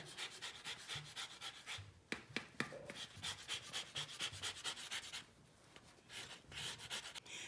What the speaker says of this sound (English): Now I'm grating the lemon zest to put into the batter.